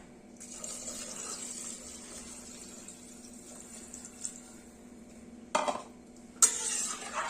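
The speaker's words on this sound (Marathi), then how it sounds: "त्याच्या चारपट आपल्याला इथे पाणी ऍड करायचंय" A soft, continuous stream of water running into a pot of rice, close by, with a couple of brief splashy bursts and clatters near the end.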